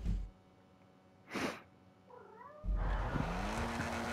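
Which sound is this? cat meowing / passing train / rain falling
cat meowing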